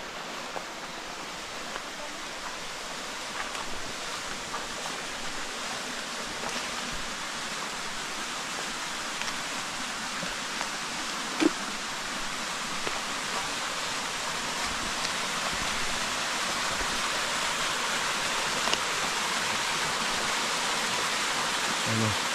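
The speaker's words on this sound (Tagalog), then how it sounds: "talon, busay." A waterfall pours steadily on overgrown, mossy land in light drizzle, making a constant broad rushing hiss that stays even and unbroken throughout.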